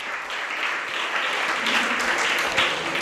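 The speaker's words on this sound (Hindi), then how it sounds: "उनके सम्मान में ताली नहीं बजाई तुम लोगों ने?" An audience at a Jain religious discourse claps in honour of the organisers, producing a dense, steady wash of applause that continues throughout.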